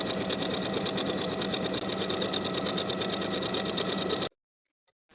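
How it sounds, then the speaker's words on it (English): A sewing machine runs basting stitches along the top edge of a skirt, a steady rapid mechanical whir with a fast regular needle rhythm, close and continuous, then stops abruptly. "we're going to sew basting stitches all the way around within the seam allowance"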